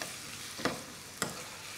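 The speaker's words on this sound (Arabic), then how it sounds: "حسخن زيت الزيتون، حضيف البصل، وقلب شوي بس ليدبل عندي البصل" Onions fry in hot olive oil, a soft, quiet continuous sizzle broken by two brief scraping stirs of a spoon in the pan.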